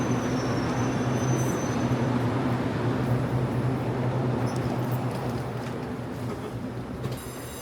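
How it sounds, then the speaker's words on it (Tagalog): A train pulls in at a Taiwan High Speed Rail platform near Taichung, giving a steady, loud rumble with sustained humming tones that eases slightly toward the end, with no talk over it. "So, dito na yung train."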